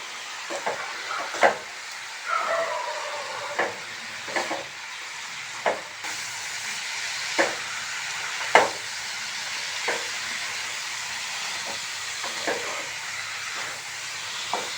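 Spinach sautéing in a pan with egg, a soft steady sizzle and hiss broken by light scraping clicks of a spatula stirring at intervals, close and moderately quiet, no talking.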